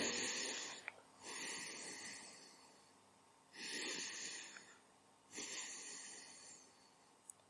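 Deep, slow breaths drawn in and pushed out through the nose, three long airy cycles close to the microphone with quiet pauses between them.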